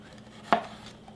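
A knife slices down through a bell pepper beside its core, giving one short crisp cut near and clear against a quiet kitchen.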